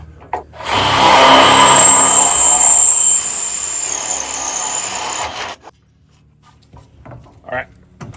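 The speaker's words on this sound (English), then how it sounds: "now we got our first 2 holes drilled" A power drill bores holes through a bridge top rail using a guide, a loud grinding whir lasting several seconds, then stopping, followed by a few scattered clunks.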